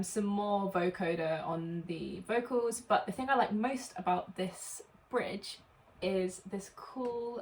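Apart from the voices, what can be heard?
No everyday noises stand out.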